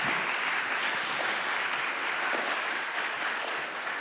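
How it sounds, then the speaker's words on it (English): Steady, dense applause from a large crowd after a children's spring jazz concert, sustained at an even level throughout with no voices standing out. "Let's give all these kids a round of applause"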